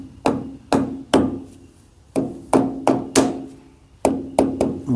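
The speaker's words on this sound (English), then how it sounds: "I'm just going to tap my cap on." Wheel bearing cap on an HQ Holden 1 Tonner being tapped into place with a hammer: about eleven sharp metallic knocks in uneven clusters, close and fairly loud, each with a short ringing decay and no talking.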